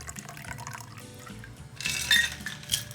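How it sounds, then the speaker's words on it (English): A Manhattan cocktail poured from a shaker into a martini glass, a soft liquid splash and trickle rising over low background noise, with a faint clink of glassware. "Now we're gonna pour it into the martini glass."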